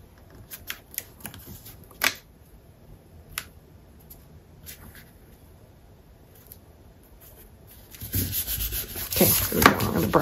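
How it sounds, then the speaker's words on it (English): Paper trim is burnished down onto cream cardstock with quick, close rubbing and scraping strokes, soft and intermittent at first, then growing into a louder stretch of friction noise toward the end. "Burnish that real quick"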